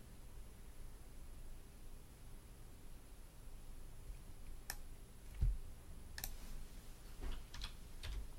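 Sparse computer mouse clicks during desk work: a few sharp, isolated clicks come after a quiet stretch, then a small cluster of quick clicks near the end over a faint steady hiss.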